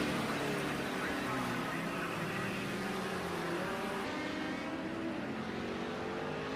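Vintage touring cars, including a Mercedes, race down the straight at Lydden Hill in a virtual racing game, a continuous loud engine drone with shifting pitch and layered roars, under a commentator's voice.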